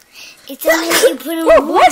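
A single sharp sneeze near the start, followed at once by close adult speech over the rest of the clip.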